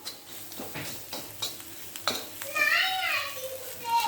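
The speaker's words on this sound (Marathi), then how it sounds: "त्याच्यामध्ये कांदा टाकला आहे, आपलं धने जिरे पावडर, कोकम, लसूण, छान असं हे मसाला छान परतून घ्यायचा." Onion, garlic, kokum and coriander-cumin powder masala sautéed in a pan for a dried bombil dish, with a spoon scraping and clinking at intervals over a faint sizzle, and a voice briefly heard.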